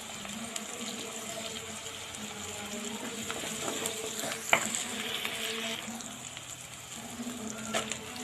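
Ginger-garlic paste with turmeric stirred gently in a clay pot for spicy Guntur chicken curry, a steady low sizzle with soft scraping, a few light clinks and knocks cutting in near and clear.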